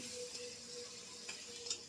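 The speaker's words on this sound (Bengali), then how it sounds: "ওখানে কড়াইয়ের মধ্যে ভাজাও হচ্ছে" Food fries in a kadai for fried rice, a faint steady sizzle heard from a distance with a couple of small ticks and clicks near the end.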